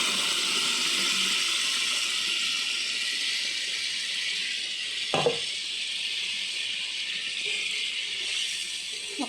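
Water poured into a pan of stuffed brinjal curry, heard as a continuous hissing splash and bubbling with one sharp knock of the vessel midway and a faint clink at the end, without talk.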